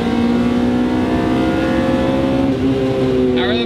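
A Honda Civic with a swapped K20 engine revs hard and climbs as VTEC engages, a loud, strained intake and exhaust note rising steadily in pitch inside the moving car, with a brief voice in the cabin over it.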